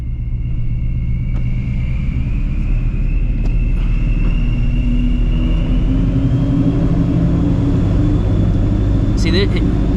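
A 700HP procharged Shelby GT350 creeping along off the throttle: a loud, steady low rumble and droning exhaust with a faint whine, unchanging throughout, heard from inside the cabin.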